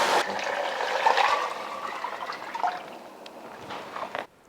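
Homemade chicken broth poured into a pot for chicken noodle soup, a close liquid gush and splash that tapers into a thinner trickle before stopping abruptly.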